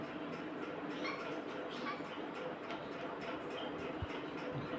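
A dog outside gives a few faint, distant barks and yips against a quiet room background.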